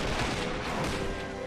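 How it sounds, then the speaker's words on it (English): Dense battlefield din from the toy-soldier war game Army Men of War, with artillery and rifle fire merging into a continuous loud roar of overlapping shots and blasts lasting throughout. "The artillery and the huge firepower of the rifles."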